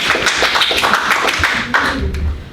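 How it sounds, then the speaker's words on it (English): A classroom of students gives a classmate a round of applause after a math answer: dense, steady hand clapping from many people close by for a couple of seconds, fading slightly at the end. "Let's all give him a hand clap."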